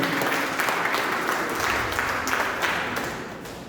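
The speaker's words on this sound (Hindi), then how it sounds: "तो बड़ी जोरदार तालियां बजा देंगे।" Applause from an audience at a Hindi Day 2024 literary event and book launch, a steady wash of clapping lasting several seconds that fades slightly toward the end.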